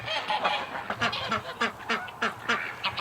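Ducks and geese calling near a creek, a run of repeated quacks and honks of varying pitch, close and fairly loud, coming in irregular bursts with no talk over them.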